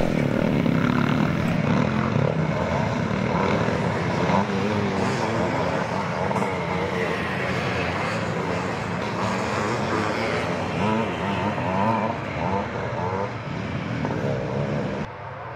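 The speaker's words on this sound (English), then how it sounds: "Willie Burgess is in fourth place on the number two bike as they all head into the wooded section" Classic motocross bikes race into a wooded section of a Scottish castle-grounds track, with a dense, continuous drone of several engines revving at once, loud and sustained throughout without talk.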